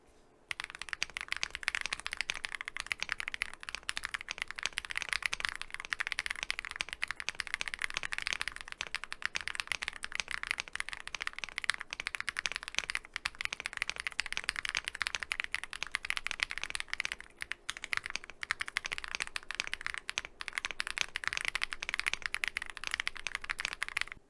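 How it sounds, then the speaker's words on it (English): Continuous typing on a YUNZII AL66 mechanical keyboard, a rapid stream of close, crisp key clacks with no talking, steady throughout at moderate volume. "We'll see how that influences the sound of the keyboard in the final sound test."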